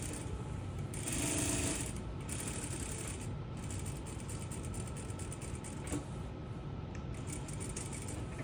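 A sewing machine stitches a sleeve binding and placket in a steady, close mechanical whir. It grows a little louder near the start and then runs evenly to the end.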